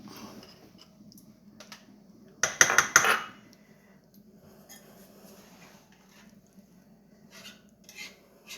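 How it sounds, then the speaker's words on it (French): A whisk beats lemon cream in a bowl: a short, loud flurry of rapid metallic clattering in the middle, with fainter scrapes and taps before and after, close up and no voices. "On fouette bien"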